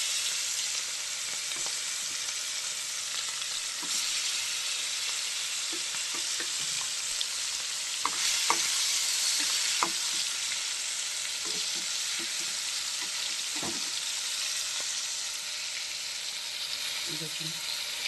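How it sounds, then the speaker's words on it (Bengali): Prawns frying in hot oil give a steady, loud hiss and crackle of sizzling that runs throughout, with occasional soft knocks and stirring clatters breaking through. "এবার একে একে চিংড়ি মাছ আমি তেলের মধ্যে ছেড়ে দেবো।"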